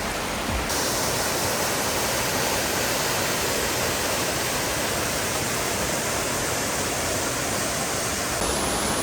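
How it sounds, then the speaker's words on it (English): Strong waterfall flowing on a short hike to Vichy Springs in Northern California, a loud, steady broadband roar that fills the clip without a break, with wind in the area. "I see a waterfall."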